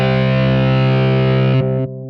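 A heavily distorted electric guitar, processed in Logic Pro X, sustains a loud buzzing chord that cuts off in two quick steps near the end.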